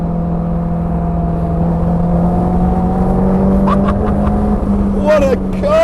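A lightweight Caterham 310R sports car driving fast, its engine a steady loud drone held at constant pitch, with a brief rising rev near the end and someone talking over it.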